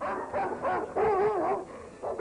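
Dogs barking and yelping in a Rio de Janeiro TV news report on dog attacks, a series of close, agitated barks and whines in quick bursts with a longer howling yelp in the middle.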